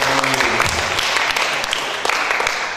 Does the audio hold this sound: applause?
yes